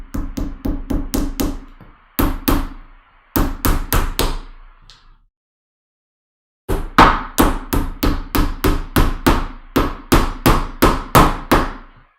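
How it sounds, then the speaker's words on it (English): A hammer drives nails while gaming shelves are being built, with quick runs of sharp, evenly spaced strikes broken by short pauses and one longer silence before a steady final burst. "I'm doing my hammering."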